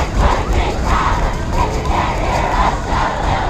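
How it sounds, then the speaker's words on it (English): A loud football crowd at a high school varsity game roars continuously, a dense sustained wall of cheering and shouting that stays steady throughout. "Crowd getting very loud."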